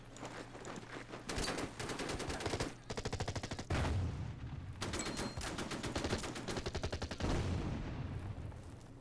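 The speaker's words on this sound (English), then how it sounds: "I think that's an anti-tank gun." Gunfire from an anti-tank gun and troops in the WW2 strategy game Order of Battle, with long rattling bursts of rapid machine-gun-like shots, short pauses between volleys and heavy low booms, loud and dense throughout.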